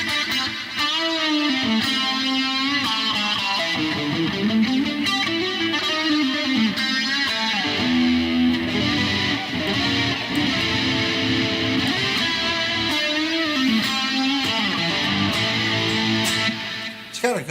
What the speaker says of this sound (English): Still a lot of gain, but I've turned the distortion down.